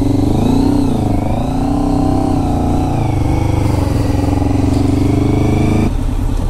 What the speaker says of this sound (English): Did you see me do a burnout?